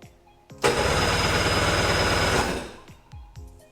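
Sea-Doo GTX jet ski engine cranking and catching, roaring at a steady loud rumble for about two seconds before dying away, with clanks and faint background voices around it.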